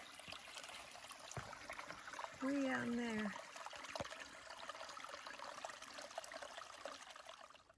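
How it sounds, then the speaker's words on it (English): Water trickles faintly and steadily from a rigged-up pipe at a trailside source on the Appalachian Trail, while a person speaks briefly midway. "someone had, again, rigged up a pipe, so it's easy to put water into the bag"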